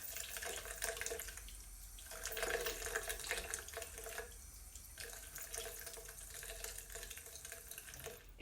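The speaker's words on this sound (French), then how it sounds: "Donc, on rince bien." Water runs steadily from a sink tap during a face rinse, a faint, continuous splashing flow with shifting swells as hands move through the stream, with no talking.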